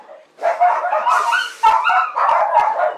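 Several dogs in a container house bark and yip together in an excited, overlapping chorus, loud and close, with barely a pause across the stretch.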